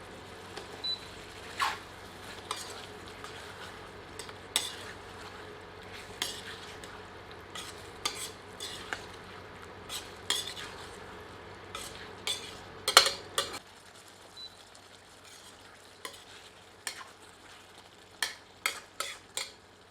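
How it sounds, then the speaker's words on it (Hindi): Chicken with yogurt is stirred and sautéed over high heat for rezala: a steady low sizzle with frequent light scrapes and taps of a ladle against the pan, close but quiet, and the sizzle drops away near the end, leaving sparse clinks. "सबको मिलाकर 2 से 3 मिनट तीव्र आंच पर भूनते हैं।"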